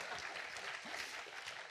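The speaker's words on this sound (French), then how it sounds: "Oui, on peut applaudir si vous voulez." Audience at a tech conference closing keynote gives a short, faint round of applause, a soft, distant wash of clapping lasting under two seconds.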